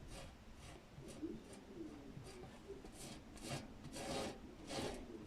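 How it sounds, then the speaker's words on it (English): Squeegee spreading paint across a metal tray, giving repeated soft rasping scrapes in a slow back-and-forth rhythm, faint and close, with no talking. "Just lay our squeegee down and spread it."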